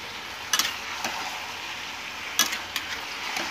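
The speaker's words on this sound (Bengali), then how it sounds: "আবার আমি ভালো করে নেড়ে চেড়ে নেব" Labra mixed vegetables with a little dry chilli powder being stirred in a pan, soft frying under a few scattered spatula scrapes and clinks, fairly quiet and close.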